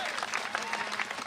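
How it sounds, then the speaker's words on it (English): A crowd at an outdoor rally against racism in Milwaukee breaks into sustained applause for a speaker, a dense clapping wash with some voices mixed in. "Let's give another round of applause for Frank Chapman"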